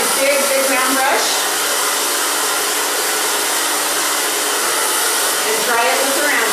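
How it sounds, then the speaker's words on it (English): Close, loud hair dryer roars continuously while longer hair of an A-line cut is dried over a big round brush, airflow briefly wavering at the start and end. "and dry it with the round brush"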